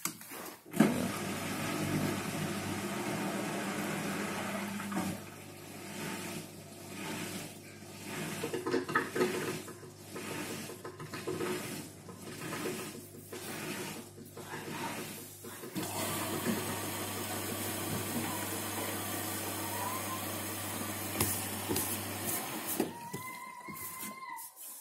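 An Indesit washing machine fills and churns a wash load, with rushing water, sloshing and a low motor hum, plus rhythmic surges and a brief clunk near the end, all close and steady.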